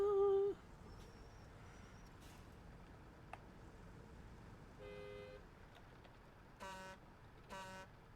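Two short horn honks from a truck in the SnowRunner driving game sound over quiet engine ambience near a logging station, along with a few brief electronic tones.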